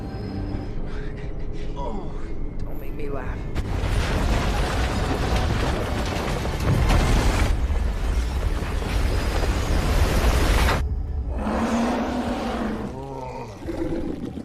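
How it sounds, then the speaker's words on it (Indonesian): A train tunnel collapses in a zombie video game: heavy rumbling and crashing build into a prolonged roaring collapse with grinding debris, set among game ambience and a brief creature growl. "Namun tiba-tiba terowongan kereta runtuh."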